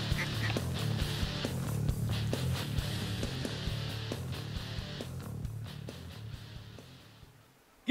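Ducks quacking repeatedly in a field during a duck hunt, a loud, close, steady run of honking calls with a spinning-wing decoy setting, fading toward the end.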